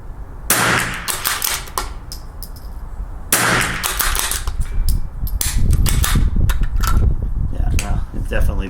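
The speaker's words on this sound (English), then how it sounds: "I might shoot another magazine worth here in a second" 22LR rifle gunshots at an outdoor range using Lapua Long Range and Super Long Range ammunition, two sharp loud cracks a few seconds apart followed by a flurry of quicker shots, with wind noise and talk in between.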